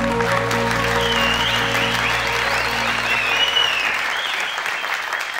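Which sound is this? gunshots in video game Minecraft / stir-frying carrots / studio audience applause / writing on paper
studio audience applause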